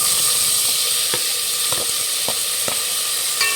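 Chopped tomatoes fry in hot oil for a thick Mysore-style thili saaru, giving a loud, steady sizzle and hiss with a few soft stirring clicks and no voices.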